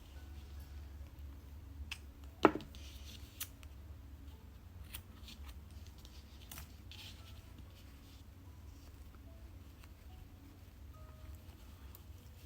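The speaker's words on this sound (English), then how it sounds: "then I cut my yarn" A single crisp snip of scissors cutting yarn at a finished crochet flower, close and sharp against a quiet, faintly humming room.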